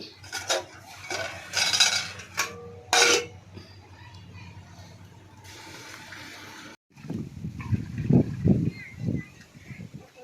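Metal pots and dishes clatter and clank in bursts, with water running and splashing near the end as items are scrubbed and rinsed.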